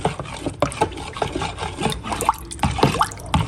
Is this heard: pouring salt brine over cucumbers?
yes